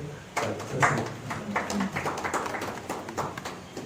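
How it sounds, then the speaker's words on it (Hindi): Audience applause at a Hindi literary gathering for a poetry collection, scattered claps rising into a steady patter that continues throughout, moderately distant and without speech. "जोरदार तालियां"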